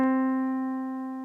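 One lower piano note, played once and sustained with rich overtones, decaying gradually with nothing else around it.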